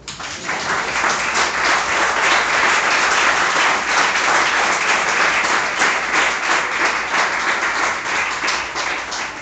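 A church congregation applauding, a loud, sustained round of many hands clapping that fills the room evenly from start to finish.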